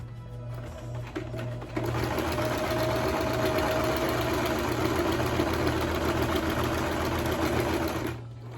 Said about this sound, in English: I'm gonna go ahead and sew a little bit, some lines on this as well